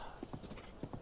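A horse's hooves clip-clop in quick, steady beats in Zelda: Breath of the Wild, moderately close against continuous game ambience.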